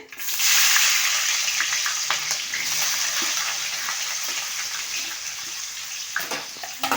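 Onions and green chillies frying in oil with mustard seeds, cumin and fenugreek for a Telugu fish curry (chapala pulusu): a loud, continuous hissing sizzle close by, broken by a few clinks and scrapes of stirring.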